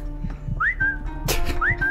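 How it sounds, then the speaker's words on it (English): Whistling in a video game, two short rising-then-level whistles about a second apart, clear and close over low background game sounds and thumps. "Whistle."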